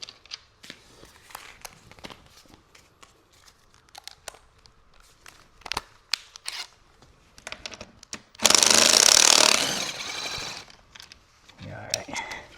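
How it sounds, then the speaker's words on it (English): An impact wrench loosens a car seat bolt in one loud, rough, buzzing burst lasting about two seconds, with softer clicks and handling noises before and after it. "That's why you want to have an impact wrench."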